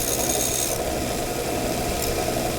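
A worn, once-coarse file rasps steadily across a part from a 1911-style pistol, a close, continuous scraping with no pauses and no talking.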